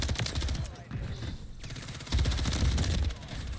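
Rapid bursts of automatic gunfire in a Call of Duty multiplayer match, dense and continuous with a louder stretch toward the end.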